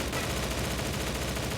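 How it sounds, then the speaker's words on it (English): Dense gunfire crackles without pause in the video game STALCRAFT, loud rapid shots blending into a continuous rattle with no talk. "Okay, now there's gunfire."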